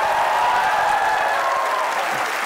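Audience applause at a Pakistani comedy show, a steady wash of clapping that carries on evenly for the whole stretch.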